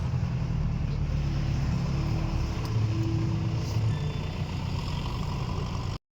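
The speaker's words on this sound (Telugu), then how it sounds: "ఇది క్రషర్ ఇక్కడనే నడుస్తూ ఉంటుంది" A stone crusher running at a site with a JCB nearby, a loud steady mechanical rumble and drone with faint tonal hums, close and continuous until it cuts off abruptly.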